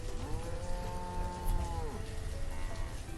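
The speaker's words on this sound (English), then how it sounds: "Oh wait, we got 2 cattle." Cattle in a medieval settlement-building game lowing in long, drawn-out moos with gliding pitch, layered over a steady low ambient rumble; no one speaks.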